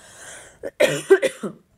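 A person coughs in a tight cluster of several short, dry bursts with a hint of throat clearing, close and loud with no talking around it.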